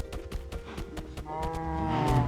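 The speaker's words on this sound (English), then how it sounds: "Oh, here are my cows." Cattle mooing in a medieval-style video game village, several low drawn-out moos close by, with a longer, louder bellow toward the end over light background game sound.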